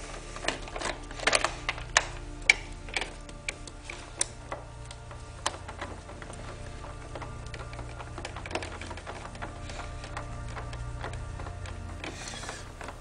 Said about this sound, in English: Torx head screws out. This is a T20 bit.